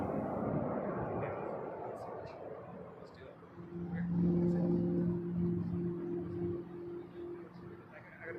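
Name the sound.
Embraer 195 E2 airliner, Porter 544 from Miami, at Toronto Pearson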